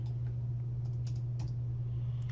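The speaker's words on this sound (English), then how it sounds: "So get the dimension tool by clicking D." Computer keyboard keys tapped while working in CAD software, a few soft, faint clicks over a steady low electrical hum, with no voices.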